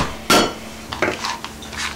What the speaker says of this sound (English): Take a rolling pin and just grind it, just crush it.